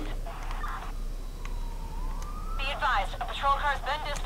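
A wailing police siren in the video game Watch Dogs rises and falls in the distance during a police chase, under a steady background hum, with voices and radio-like chatter breaking in.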